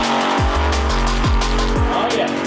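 Alcohol-injected Chevy drag car making over 1,500 horsepower roars loudly at close range, its deep engine note rising and snapping through three quick gear shifts in a sustained full-throttle pull at a quarter-mile event.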